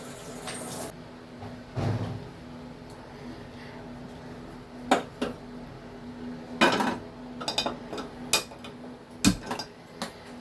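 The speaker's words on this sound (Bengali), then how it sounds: "ফ্রাই প্যানটা আমি বসিয়ে নিলাম" A frying pan set down on a stove, heard as a few scattered clanks and knocks of metal close by, with quiet gaps between them.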